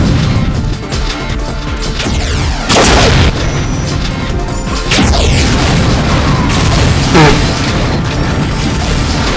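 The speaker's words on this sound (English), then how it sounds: "be careful where you shoot your, grenades, because that happens." Grenade blasts go off in a multiplayer match of the video game Unreal. Loud, close booms and crashes land in a heavy, continuous barrage, with sharper hits standing out among clattering mechanical noise.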